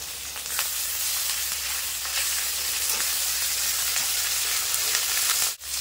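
Ginger-garlic, cumin and dried chili pastes frying in hot oil for a Bengali boal fish masala, giving a loud, steady close sizzle throughout with faint stirring and no voices.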